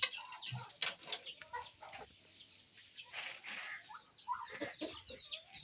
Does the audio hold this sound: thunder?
no